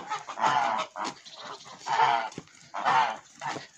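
Farmyard geese honk loudly nearby while being herded out to graze, giving several separate nasal honks in an uneven rhythm with short quiet gaps between them.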